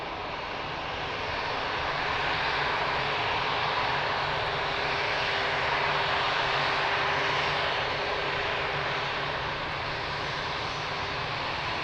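Airliner landing at Lisbon Airport, a loud continuous engine roar that swells slightly toward the middle and holds, close and unbroken by talk.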